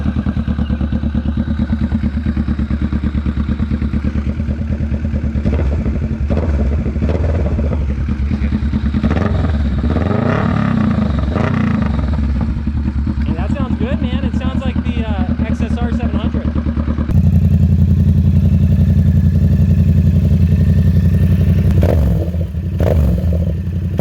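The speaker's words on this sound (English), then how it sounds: "Sounds like the XSR 700 with that exhaust" A Kawasaki Vulcan 650 S motorcycle with an aftermarket exhaust revs loudly nearby, rising and falling in pitch, with some rattling clatter mixed in.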